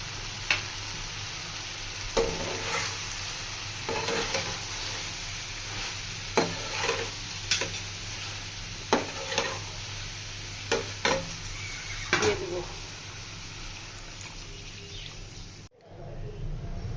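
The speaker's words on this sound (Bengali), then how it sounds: "এবার আলু কষানো শেষ, মাছগুলো দিয়ে দিব।" Small fish and potatoes frying in a pan for a chorchori, a steady soft sizzle broken by repeated scraping stirs at a regular pace, with faint bird chirps in the background.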